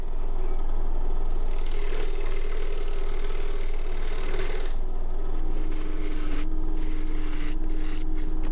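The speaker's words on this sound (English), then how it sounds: "I'm going to go and give the bowl gouge a bit of a sharpen" A woodturning bowl gouge is sharpened on a grinding wheel, a continuous motor hum under a harsh, rasping grind that swells and eases as the steel is worked against it.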